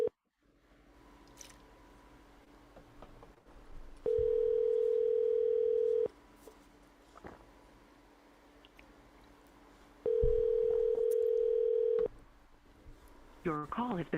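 A telephone ringback tone while a call is being placed, two long steady tones about six seconds apart, heard over a quiet room with faint background noise.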